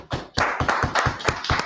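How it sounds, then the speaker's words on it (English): A room audience at a talk claps together in a quick, rhythmic run of loud, close hand claps, several distinct beats in a row with no talk over them. "Clap it up."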